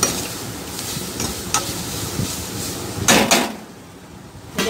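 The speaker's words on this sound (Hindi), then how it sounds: "तो भून लेते हैं अच्छे से" Spices with turmeric frying in oil in a pan, with a continuous soft sizzle and occasional scraping stirs and a couple of louder clatters near the end.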